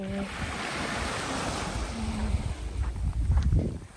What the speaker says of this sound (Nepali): छाल निकै बढ्दैछ समुद्रको